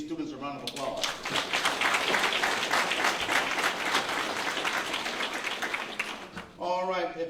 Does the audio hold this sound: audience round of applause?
yes